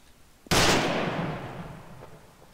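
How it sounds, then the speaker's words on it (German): A single loud blast of gunfire from an armed Ifrit vehicle in the video game ArmA 3, a sharp near report at once with a long decaying rumble and echo trailing off over two seconds. "Der Ifrit, der Bewaffnete, schießt auf uns."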